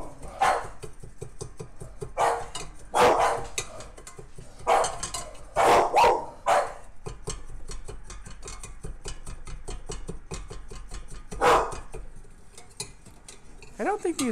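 Dogs bark in short, sharp bursts close by in a kitchen while rose hips are mashed in a pot, with scraping and clinking of utensils between the barks.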